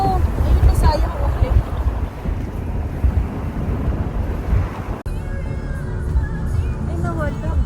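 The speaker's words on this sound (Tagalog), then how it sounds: "Grabe. Ang hangin." Strong wind at the seaside buffets the microphone in loud, continuous gusts, with surf and faint voices underneath and a brief cut partway through.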